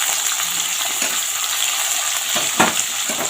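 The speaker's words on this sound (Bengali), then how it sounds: "এটাও ভালো করে ভেজে নেব" Vegetables fry with salt and turmeric in a hot oiled pan, giving a steady, close sizzle with faint stirring scrapes and one sharper clatter near the end.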